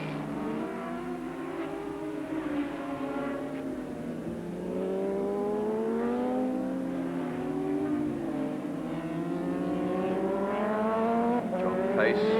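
Racing motorcycles at Oran Park, a 1982 Swann Series round, scream past with rising and falling engine pitch as several bikes shift gears, heard at a moderate distance under faint trackside ambience.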